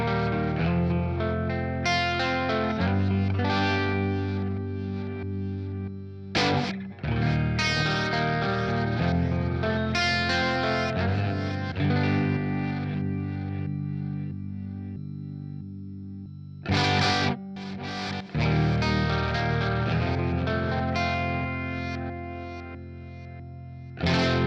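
Electric guitar played through a Fender Mustang Micro Plus with distortion, chorus and modulation effects, sustained chords ringing out alone with a few sharp strummed attacks and the stereo image shifting as it plays.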